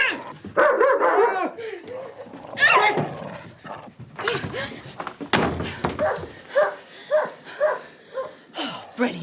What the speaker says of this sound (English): A lunatic dog with a shoe fetish.